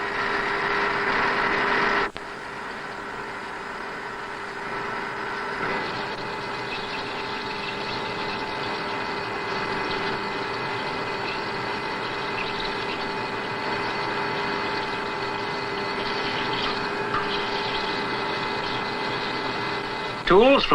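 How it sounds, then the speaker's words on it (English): A modern copy-turning lathe at the Colchester Lathe Company profiles a spindle along its whole length with roughing and finishing cuts, giving a steady mechanical hum and whine that runs throughout, with a voice talking over it. "The spindle then passes to this modern copy-turning lathe, which profiles the whole length of the spindle."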